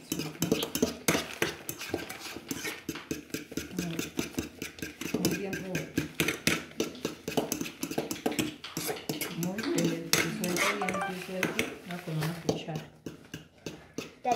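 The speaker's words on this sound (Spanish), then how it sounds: "Revuelve mucho con el azúcar." A spoon scrapes and clinks against a pot while curuba juice is stirred with sugar, a steady busy clatter of metal on metal throughout, with voices talking nearby over the stirring.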